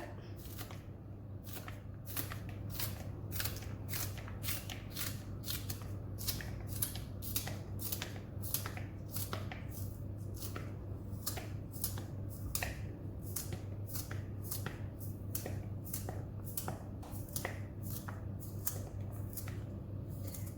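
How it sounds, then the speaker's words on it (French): A green onion is sliced with rapid, steady knife strokes over a salad bowl while preparing a pasta dish. The crisp cuts come close and regular, some forty sharp ticks over a low steady hum, with no talking. "dans mon saladier, je vais couper un oignon vert"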